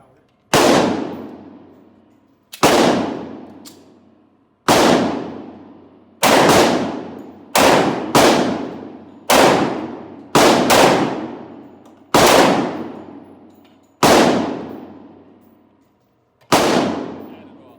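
Eleven sharp, loud 10mm pistol shots with hand-loaded defensive rounds ring out outdoors at a range, spaced irregularly about one to two seconds apart, each with a short decaying echo.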